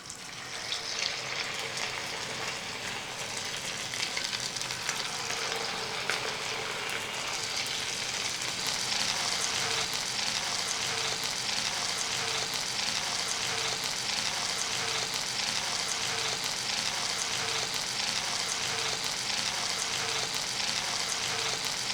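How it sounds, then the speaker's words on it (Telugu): Marinated chicken pieces for Hyderabadi street-style Apollo chicken deep-frying in hot oil, a loud, dense, continuous bubbling sizzle that swells after the first seconds and holds steady, close up and with no speech. "ఆయిల్ బాగా హీట్ ఎక్కింది. ఇప్పుడు మనం కలిపి పక్కన పెట్టుకున్న చికెన్ని ఒక పీస్ వేసుకుందాం."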